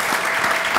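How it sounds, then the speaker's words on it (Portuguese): Audience applause at a public talk on decentralisation in Porto, a short burst of dense, steady clapping from a crowd, fairly loud and even throughout. "peço uma salva de palmas para ele"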